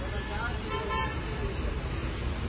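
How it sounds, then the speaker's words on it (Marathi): Road traffic with a car horn toot, a dense continuous rumble of passing vehicles close by that stays steady under the whole stretch. "तुम्हाला गाडीचा आवाज येत असेल पण प्लीज बेअर विथ अस"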